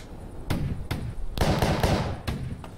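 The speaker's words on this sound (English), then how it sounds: "someone's shooting at me" Gunshots from a space cowboy video game, a few sharp bursts in quick, irregular succession with a denser cluster partway through, loud and close with no talk over them.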